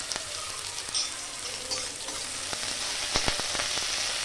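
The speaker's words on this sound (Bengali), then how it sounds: "এই তেলে আমি দিয়ে দেবো পেঁয়াজ, পেঁয়াজটা হালকা নাড়ার পর আমি দিয়ে দেবো কারিয়া পাতাগুলো।" Onion and curry leaves fry in hot oil with a bright, steady crackling sizzle, close and fairly loud, punctuated by a few sharp pops and light stirring clicks.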